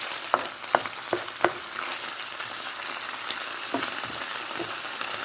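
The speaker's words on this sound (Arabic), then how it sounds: "فوالا نخليها تساجم مع البصله ومع هاد الثومه." Onion and garlic sauté in hot oil with a constant crackling sizzle, punctuated by several sharp clicks of stirring early on and a few softer ones later.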